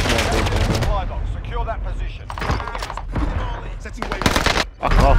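Rapid bursts of gunfire with sharp shots and thuds in a Warzone Pacific match, loud and dense throughout, with a player's voice talking over the shooting.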